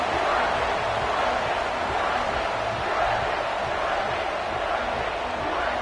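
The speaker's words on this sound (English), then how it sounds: "this crowd is buzzing after that last score" A dense stadium crowd in the NCAA College Football 26 video game buzzes in a steady, broad roar with slight swells, while commentary voices speak over it.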